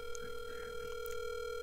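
Steady telephone dial tone heard while placing a call, a continuous hum held alone for nearly two seconds with faint background noise.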